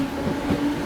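A train rolls along with a steady low rumble and faint rhythmic rail noise, heard at moderate distance with no voices present.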